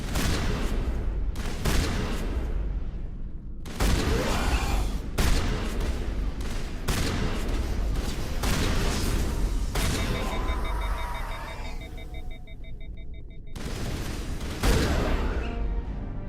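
Explosions and gunfire in the video game Mass Effect Legendary Edition, repeated loud booms and bursts of shots in quick succession with brief gaps, close and dense throughout.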